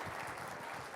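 Sustained applause from an audience at a stage hypnosis show, a dense, even burst of clapping lasting about a second.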